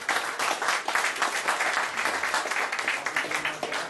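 An audience applauds to welcome a guest musician from a blues band onto a talk show stage, dense steady clapping filling the room for several seconds with no voices over it.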